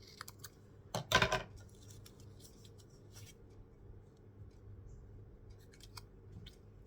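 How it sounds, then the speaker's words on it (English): Scissors snip through craft embellishment material at a table, a single close burst of crisp cutting strokes around one second, followed by quiet handling noises. "I'm going to cut that off so I can use it somewhere else."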